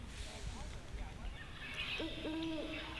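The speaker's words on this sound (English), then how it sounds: "It's a great horned owl." A great horned owl hoots through a played recording: a few low, steady tonal hoots sit over a constant background hiss and rumble.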